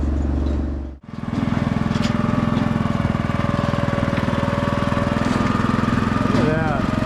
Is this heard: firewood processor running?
yes